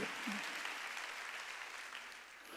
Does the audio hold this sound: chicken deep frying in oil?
no